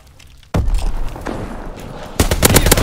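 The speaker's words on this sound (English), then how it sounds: "Enemy mortar fire incoming!" Enemy mortar fire in Call of Duty: WWII, a sudden loud blast followed by rumbling impact and then a harsh cluster of rapid gunfire bursts close by.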